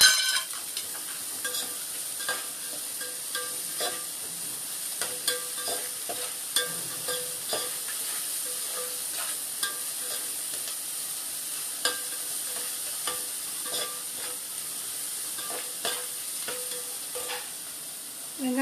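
Onions sauté with salt in a pan, giving a continuous close sizzle and frequent light spatula scrapes and taps throughout.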